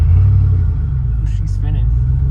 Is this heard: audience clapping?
no